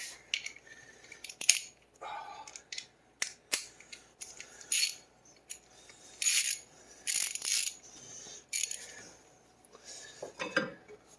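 Half-inch ratchet turning bolts on the brakes of a VW MK7 Alltrack, heard as close, sharp bursts of rapid ratcheting clicks in uneven runs with short pauses between strokes.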